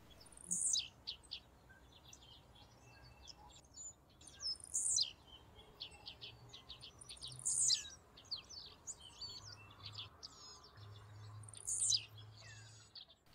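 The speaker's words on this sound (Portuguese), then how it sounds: "Esse aqui fiquei na dúvida, mas parece um chupim." A shiny cowbird calls outdoors in rural surroundings, giving four sharp high whistled notes spaced a few seconds apart, each trailed by softer chattering, over a quiet background with faint insect hum.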